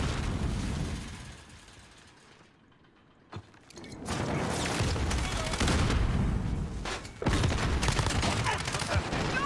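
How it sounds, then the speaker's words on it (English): Sentry gun firing in a Modern Warfare match, a quiet lull and a single sharp shot, then sustained bursts of rapid automatic gunfire, loud and dense, with a heavier volley near the end. "sentry gun active."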